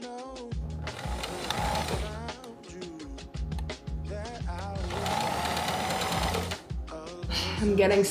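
Sewing machine stitching a fabric piece onto a thrifted-material dress, running in loud rapid bursts with short pauses between; a voice talks alongside.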